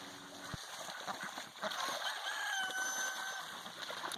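Free-range backyard chickens clucking and calling, with a rooster's crow rising in the middle, all fairly close and continuous with no talk.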